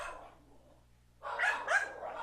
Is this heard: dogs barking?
yes